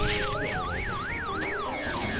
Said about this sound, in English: You can see based on the light there that there's going to be an alarm.